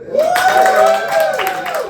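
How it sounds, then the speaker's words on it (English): Brief crowd clapping at a stand-up comedy show, scattered applause with a few whoops, while a voice or tonal sound rises and falls over it. "Clap."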